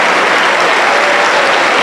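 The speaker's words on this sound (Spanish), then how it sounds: "¡Dele un aplauso para el Señor Jesucristo!" A church congregation claps loudly and steadily together, a dense wall of applause with no pauses.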